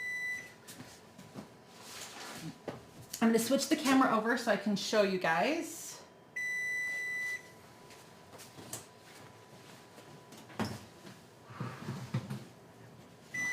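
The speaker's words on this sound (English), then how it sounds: "All right, so that is beeping." A steady electronic beep tone from an oven sounds twice, each lasting about a second, while a person talks nearby and objects clatter during crescent roll baking.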